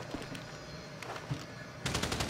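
Rapid bursts of gunfire from a weapon in the video game Grand Theft Auto 5, with a few scattered shots followed by a loud, sustained automatic volley near the end.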